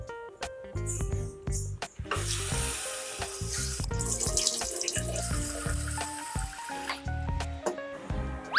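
A kitchen tap runs into a sink as rice is washed and set to soak for a lunch of okra kara kuzhambu, with splashing water, clattering vessels and a faint background sizzle in stretches.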